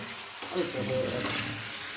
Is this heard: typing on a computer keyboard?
no